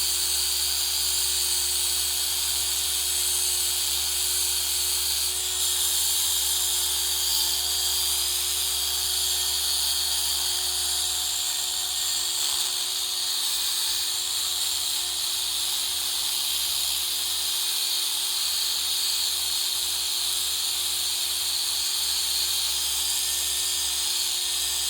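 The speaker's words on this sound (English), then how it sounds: "we're also going to polish up the piano black trim" A polisher drones steadily while buffing the piano black trim on a BMW G80 M3, giving a constant high whine and hiss over a low hum for the full stretch, with no talking.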